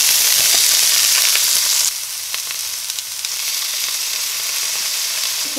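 Vegetables with garlic and ginger sizzle loudly in hot oil over a high flame, a steady close crackle that drops slightly in intensity about two seconds in as they are stirred, with no talking.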